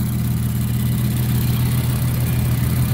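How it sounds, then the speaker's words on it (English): An Infiniti Q60 Red Sport's big twin turbo engine idles with its hood open, a steady low hum and whir held evenly and close throughout with no talk. "Big twin turbo engine."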